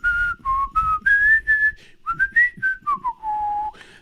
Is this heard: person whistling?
yes